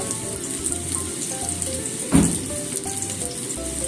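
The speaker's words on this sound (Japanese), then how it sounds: "さつまいもを両面っていうか、両面焼き色をつけますね" Sweet potato pieces pan-fry until browned on both sides, giving a soft, steady close-up sizzle with one brief louder clunk partway through.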